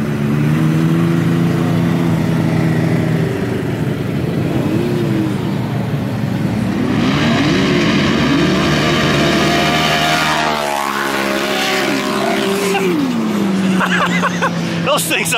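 Side-by-side UTVs at a drag race, one fitted with a wheelie bar, their engines revving and droning loudly throughout under a crowd's babble and a person talking, with a rising acceleration sweep near the end.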